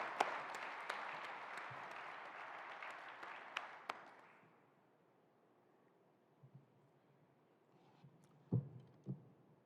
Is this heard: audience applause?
yes